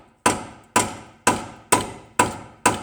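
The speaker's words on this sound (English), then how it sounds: "now I can hammer that out of there" Six sharp metallic hammer strikes at a steady rhythm knock a part out of a 2004 to 2007 Toyota Highlander's front end, each ringing briefly before the next, close and loud with no talking.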